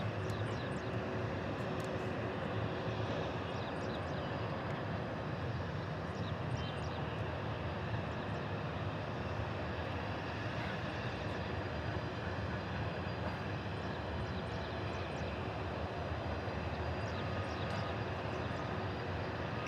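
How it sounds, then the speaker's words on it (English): A UPS Boeing 747-8 on the runway during takeoff sends out a continuous broad jet engine roar that holds level and loud without pause, with a distant airport all around. "UPS 747-8 waiting to take off."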